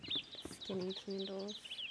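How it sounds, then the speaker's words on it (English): Birds chirping in the trees in the game Enshrouded: faint, high tweets repeat in the background while a person talks over them. "listen to the sounds. Just like birds in the trees."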